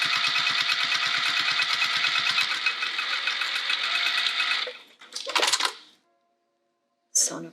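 A sewing machine stitches across the bottom edge of fabric for a small zippered pouch, a fast, even mechanical whir for several seconds before stopping, followed by brief handling clatter and a short click.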